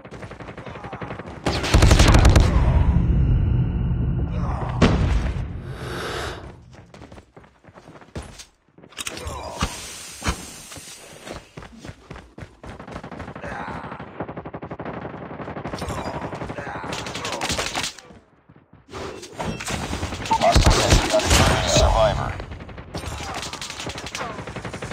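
A hostile sentry gun fires in a Call of Duty undead survival game: loud bursts of automatic gunfire rise and fall across the scene, broken by brief quieter gaps and mechanical game noise.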